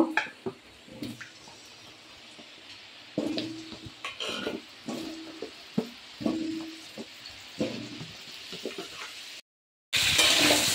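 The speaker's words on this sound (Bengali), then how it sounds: "আলুগুলো লাল লাল করে ভেজে নেব।" Potatoes frying in oil in a kadai, a steady close sizzle broken by repeated short stirring scrapes and clinks of a utensil against the pan, then a brief silent gap before a brighter hiss.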